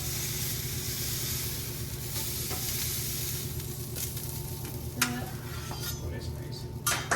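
Prosciutto-wrapped asparagus sizzles steadily on a grill, a constant close hiss of frying with a few scrapes and clacks as a spatula lifts the spears off near the end.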